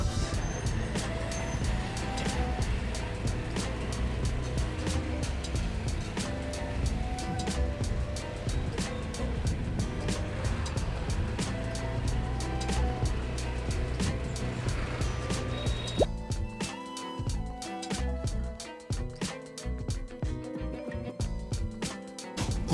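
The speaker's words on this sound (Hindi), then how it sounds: "चलते हैं, बाहर निकलते हैं, स्कूटी चलाते हैं थोड़ी सी आज" A scooter rides through traffic in India, with a continuous engine and road rumble, passing vehicles and intermittent ticking clatter, moderately loud throughout before thinning out near the end.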